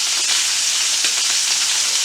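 Filet mignon steaks sear in butter in a pan, giving a loud, steady, close sizzle with a bright hiss and faint crackles throughout, no talking.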